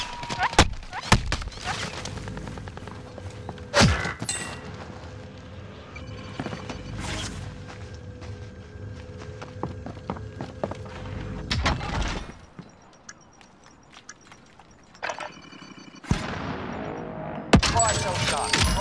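Gunfire in the video game Call of Duty: Modern Warfare, with sharp, loud shots and bursts spread unevenly through the stretch, a lull in the middle, then more shots near the end, over a background of game noise and voices.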